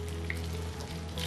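Pomelo peel fries gently in oil over a low-to-medium flame in a home kitchen, giving a soft, continuous crackling sizzle with faint spitting pops, quiet and without talk.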